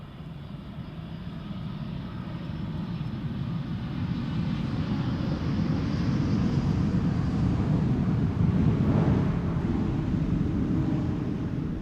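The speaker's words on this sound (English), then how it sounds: "TUI Dreamliner up next." A TUI Boeing 787 Dreamliner arriving from Baltimore at Amsterdam Schiphol Airport gives a steady, broad jet roar that swells slightly as it passes, heard from a distance with some wind noise.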